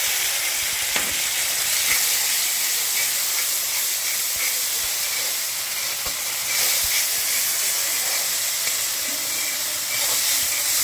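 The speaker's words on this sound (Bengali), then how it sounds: "ভোগ চালটা দিয়ে মশলাটা দিয়ে কষিয়ে নেব এখন সুন্দর করে।" Bhog rice, fried potato and pointed gourd sauté with turmeric, salt, cumin, ginger and red chilli pastes in a pan, giving a loud continuous sizzle and steamy hiss with faint stirring scrapes and no talk.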